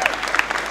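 A church congregation gives a short burst of applause, many hands clapping together close by.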